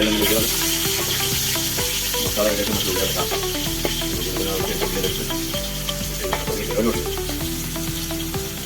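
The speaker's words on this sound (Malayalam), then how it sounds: "പച്ചമുളകും കാര്യങ്ങളൊക്കെ ചതച്ച് വെച്ചതിന് ശേഷം മീൻ പൊരിച്ച എണ്ണയിലാണ്" Crushed green chillies sizzle steadily in oil previously used for frying fish, a continuous close crackling hiss with occasional stirring scrapes, no talking.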